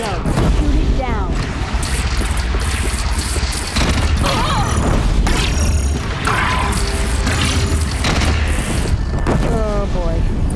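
A bridge is shot down in Horizon Zero Dawn, with heavy booming impacts, crashing debris and rumbling collapse layered over game music and character voices.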